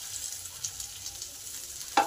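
Potatoes, onion, garlic and ginger frying in a pan, a soft continuous sizzle with light crackle throughout and a brief sharper clatter at the end.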